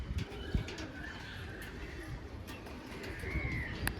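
Young Andhra Giribaz pigeons coo softly at close range, with low repeated coos and a few brief chirps over a quiet background.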